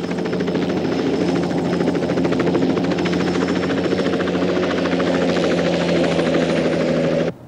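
Helicopter rotor and engine drone, steady and loud throughout, with a constant low throb and whine, cutting off abruptly at the very end; no voices.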